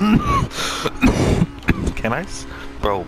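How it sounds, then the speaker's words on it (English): A man coughs and clears his throat several times in short bursts while playing the racing game GT Sport, with a few spoken words mixed in between the coughs. "I need to stop coughing"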